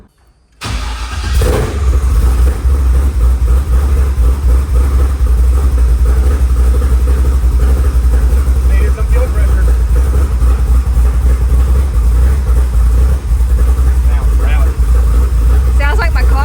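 A car engine catches after starting and settles into a loud, steady running idle with a deep rumble, close by, lasting to the end with faint background noise.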